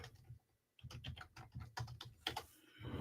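Rapid keystrokes on a computer keyboard, a dense close clatter of irregular clicks after a brief pause at the start, heard alone and fairly quiet.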